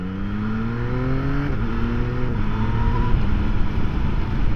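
Yamaha XSR900 motorcycle engine under way on a dual carriageway, a loud steady drone with the pitch climbing through gears and dropping at each shift, over constant wind rush.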